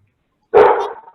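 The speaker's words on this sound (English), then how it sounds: "Sorry, it's my dogs." Several pet dogs in a home let out one short, sharp bark up close, alone and clearly audible.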